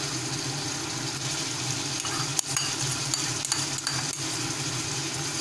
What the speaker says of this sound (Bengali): এবার গ্যাসটাকে ফুল ফ্লেম দিয়ে ভালোভাবে ফ্রাই করে নেব।